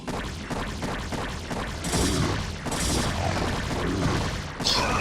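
Photon cannons fire in a busy StarCraft: Remastered match, dense overlapping booms and crackling explosions from battle effects rolling continuously at loud level, with bursts of heavier blasts and no voices.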